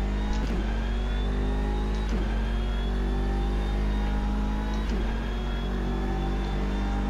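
A race car with no setup tuning and soft tyres screams around Suzuka in a racing video game, its engine holding a loud, sustained high-revving whine with brief dips at each upshift, with no voices.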